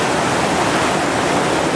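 Whitewater rapids at Chainsaw Rapid on the Gauley River, running around 2800 cfs: a loud, steady, broadband roar of churning water and waves, close and continuous with no voices.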